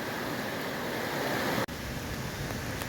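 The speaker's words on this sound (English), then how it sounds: "So this is called Glendale Falls, and I'm going to explore here today because we've got the right kind of water conditions to do so." Water flows at Glendale Falls, a waterfall in Massachusetts: a constant broadband roar close by, steady throughout with one brief dropout and no voices.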